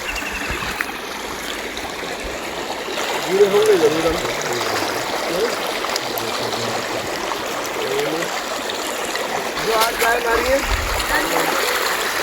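A stream flows nearby in Sunderkhal village near Jim Corbett, with a steady rushing and gurgling of water, a person talking over it in Hindi now and then.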